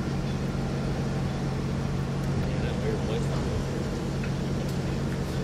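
A Yamaha outboard engine, the port motor on a 2004 Sea Pro 257 center console boat, runs at a steady idle with a constant low hum and drone, close and unvarying, with people talking nearby.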